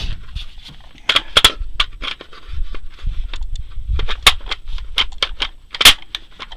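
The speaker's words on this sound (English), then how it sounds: "Locks in nice" Bulgarian AK-47 magazine clicking and locking into the rifle: a series of sharp metallic clacks and snaps at close range, with several loud impacts spread over a few seconds and no talk.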